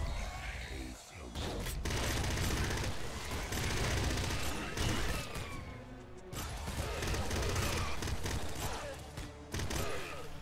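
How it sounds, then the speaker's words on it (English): Gunfire from a sniper and other weapons in the video game Nuclear Throne Ultra Mod, heard as dense, loud bursts of shots and impacts that continue almost without a break. "There's a sniper somewhere, like having some pot shots at me"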